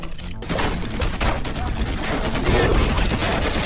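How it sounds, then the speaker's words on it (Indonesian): Dense, continuous gunfire fills the clip, rapid overlapping shots like a barrage, loud and close with a rumbling low end. "di tengah perjalanan mereka malah dikepung dan dihujani tembakan."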